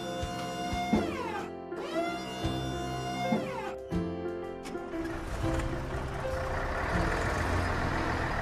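A cartoon tow truck reverses with warning beeps, its tones steady and clear over a continuous engine-like drone, with sweeping musical sounds around it and no talking.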